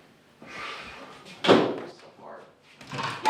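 A door thumps and rattles as it is tried, opened and pushed shut, with a firm close midway and further knocks after, while people talk nearby in a backstage area at a wrestling event.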